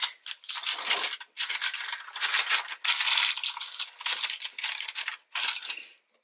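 Avocado oil being rubbed into a baking pan by hand, heard as soft, close scrubbing and rubbing strokes in irregular bursts with short pauses between them.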